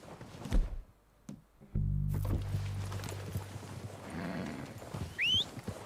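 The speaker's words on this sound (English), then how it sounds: "They're coming down with the horses." Horses in the video game Red Dead Redemption 2 approach with soft hoof clip-clop and an occasional whinny, moderately close, over a low rumbling ambient drone and a brief thunk.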